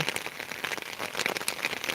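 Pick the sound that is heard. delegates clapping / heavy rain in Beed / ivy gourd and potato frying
heavy rain in Beed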